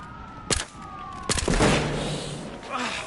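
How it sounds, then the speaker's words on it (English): Gunfire and explosions in the video game Battlefield Hardline: two sharp, loud blasts about a second apart, the second followed by a rolling rumble that fades slowly, with another faint burst near the end. "Oh, I feel so much better watching it explode."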